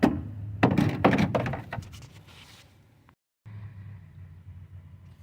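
An air vent duct is pulled up and out of a 2002 Toyota Camry's engine bay, giving a few close plastic thunks and scraping rattles over about two seconds. Quiet follows, then faint background hum.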